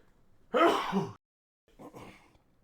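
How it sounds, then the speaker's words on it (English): A single close sneeze bursts out sharply, followed by a brief pause and a softer breathy exhale or sniff. "Hold on, I gotta sneeze."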